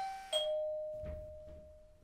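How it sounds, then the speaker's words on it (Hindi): A house doorbell chimes once with a bright two-tone ding-dong, the first tone ringing out and a sustained second tone fading slowly, alone with no voices. "तभी जिया के घर की घंटी बजती है।"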